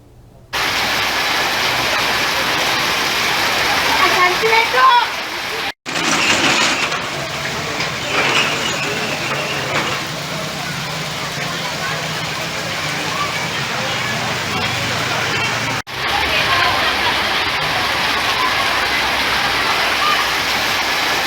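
Heavy unseasonal rain pours down over a market in a steady, dense hiss that stays loud and continuous, with brief cuts in the sound.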